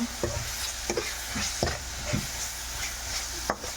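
A spoon stirs a cauliflower and cabbage curry in a pan, scraping and knocking several times over a low, steady sizzle of frying. There is no talking.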